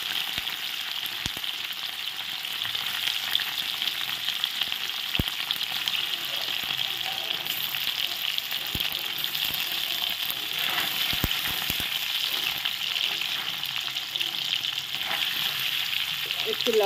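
Paneer pieces frying in hot oil for Kashmiri aloo paneer, a steady dense sizzle running throughout with a few sharp clicks and pops on top, no voices.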